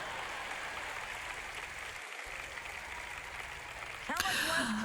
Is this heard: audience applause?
yes